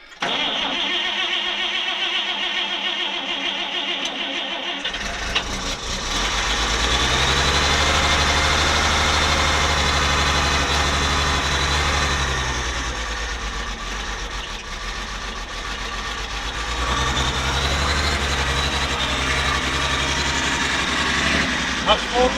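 Close, loud engine of a one-owner Diamond T truck that runs rough, coming to life and settling into a steady idle, then revving up twice to full throttle with a deep, rough roar between lighter stretches.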